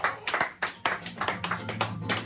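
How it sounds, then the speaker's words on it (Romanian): A small group applauds Mr. Ștefan, giving uneven clapping for a couple of seconds, close and lively, with the claps blurring together and no speech over them. "Ești în multe, multe, multe aplauze."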